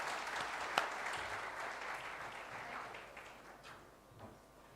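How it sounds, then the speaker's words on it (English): Audience applause at a growth and employment summit in Odisha, a steady wash of clapping from a large crowd that holds for several seconds and gradually thins out, with no talking over it. "give him a big hand"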